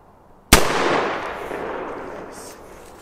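A single gunshot fired at a target outdoors, a sharp close crack followed by a long, fading echo rolling off for over two seconds, with no talk.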